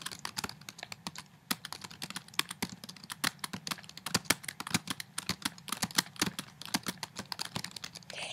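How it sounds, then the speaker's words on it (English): Rapid, irregular keystrokes on a computer keyboard while typing a paper, a steady run of close, crisp clicks with brief pauses and no voices. "I just type gobbledygook"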